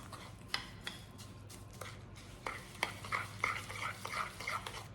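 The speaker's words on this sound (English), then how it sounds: "I'm just going to dump my brown sugar into the melted butter and then stir in the quick oats." Quick oats being stirred into brown sugar and melted butter in a bowl, a run of soft scraping and clinking spoon strokes that grows busier toward the end, close and fairly quiet.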